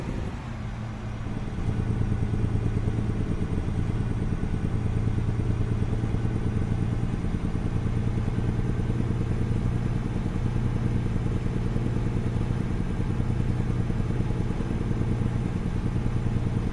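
A K200 truck engine in American Truck Simulator rumbles steadily at idle, a low continuous drone with a faint rattle, running alone without any voices.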